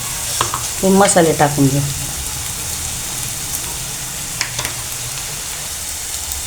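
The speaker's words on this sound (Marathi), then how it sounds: "बघा, आता मिरची चांगली परतून झाली. हिरवीच घेतली जर मिरची कच्ची तर जरा जास्त थोडा वेळ चांगली परतून द्यायची." Green chillies frying in a pan give a steady, close sizzle throughout, with stirring clatter near the start and someone speaking briefly over it.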